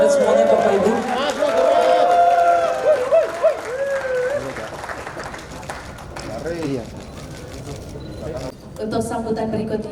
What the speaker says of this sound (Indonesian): Ini tepuk tangan dari Anda semuanya Bapak Ibu.